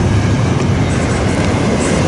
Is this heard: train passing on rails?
yes